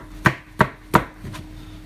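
A knife chops through a galia melon for juicing, three sharp, evenly spaced thuds against a board close by and then a softer fourth, with no talking.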